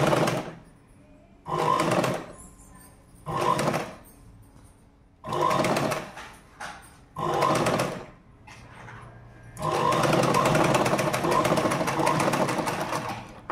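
A sewing machine stitching a jacket, running in short bursts of rapid stitching separated by pauses, then one longer continuous run, close and clear with no talking over it.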